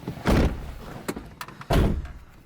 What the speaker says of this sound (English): Let's close the door first as well.